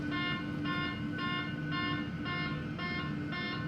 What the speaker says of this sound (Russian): Срабатывает сигнализация, потому что мы сейчас стоим на стояночном тормозе.